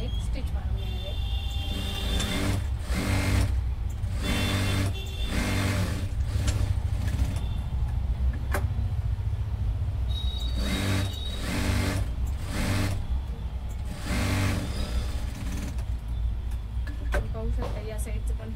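A sewing machine stitches a size-42 blouse, running in repeated whirring bursts with short pauses between them, loud and close, while a person talks throughout.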